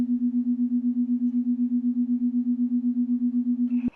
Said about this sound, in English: what you're hearing there is that 8 hertz wobble